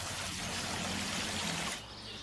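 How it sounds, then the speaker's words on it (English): Rainwater pouring steadily into a roof gutter fitted with needle-guard parts, a dense, close rushing flow that continues evenly before easing to a softer trickle near the end. "the water flow of the rainwater into the gutter is not hindered and efficiently managed"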